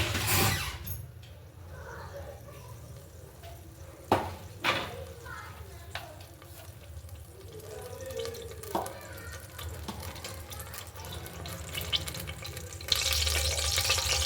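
Oil heats in a pan in a home kitchen, giving a low frying hiss broken by sharp clinks and taps of utensils, with a louder burst of sizzling near the end.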